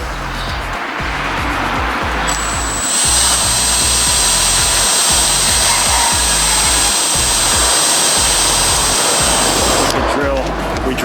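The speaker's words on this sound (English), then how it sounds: "we're ready to drill our holes now" A power drill bores slowly with a small bit into a handmade roof rack bracket for a vintage Volkswagen Bug or Bus, giving a steady high whine for several seconds under a muddy, busy low-frequency background that may include talk.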